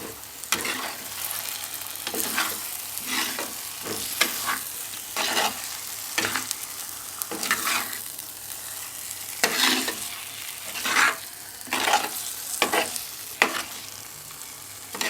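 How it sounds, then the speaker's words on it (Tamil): Four boiled eggs are stirred into a Kerala-style egg roast masala in a pan, making a soft background sizzle under repeated scraping and bumping strokes. The stirring comes in irregular bursts throughout and is heard up close. "அதை வந்து இப்போ இந்த டைமில் இதில் சேர்த்துக்கலாம். இதை நல்லா மிக்ஸ் பண்ணலாம்."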